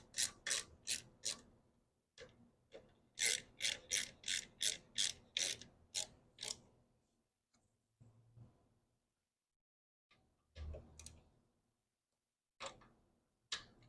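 A hand ratchet tightens carburetor bolts on a Husqvarna HU700F mower during a GVC 160 carburetor swap, producing close, crisp bursts of rapid clicking separated by short pauses and a few isolated ticks.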